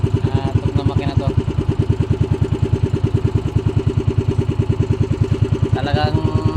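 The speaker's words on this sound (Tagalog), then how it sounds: "Tok na makina to." A close, loud motorcycle engine idles with a rapid, even thumping and a clattery knock in its rhythm, hinting at a carburetor or CDI fault, while a voice comes in briefly.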